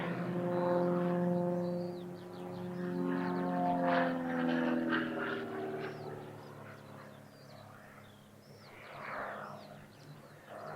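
Aerobatic team aircraft of the Falcons display at an airshow in Leszno, a sustained loud engine drone with shifting, sweeping tones as the planes reposition, rising and falling steadily throughout, with no talk.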